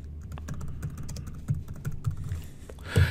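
Rapid keystrokes on a computer keyboard patter steadily at close range, quiet and clear with a few louder taps, no talking.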